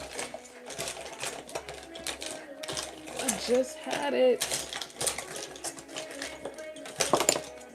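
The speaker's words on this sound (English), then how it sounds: "I gotta sharpen this. Use my sharpener." A handheld sharpener shaves a makeup lip liner pencil, giving quick, dry scraping and clicking bursts at close range, with light talking in the background.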